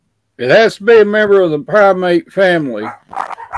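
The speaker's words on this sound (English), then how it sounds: "Excuse the dogs in the background." Dogs bark in the background, mixed under a person talking steadily in the foreground throughout.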